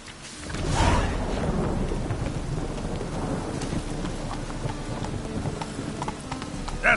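Roach, the horse in The Witcher video game, trotting and galloping with a fast rhythmic clip-clop of hooves, heard over rain and rolling thunder.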